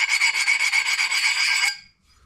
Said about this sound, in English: File just skates on there.